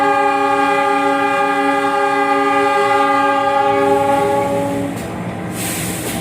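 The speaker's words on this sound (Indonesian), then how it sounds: "kereta api Mutiara Selatan diberangkatkan dari stasiun" Mutiara Selatan passenger train departing Gombong station: a loud, sustained multi-tone horn blast dominates for about five seconds, then cuts off, leaving the rumble of railcars rolling past.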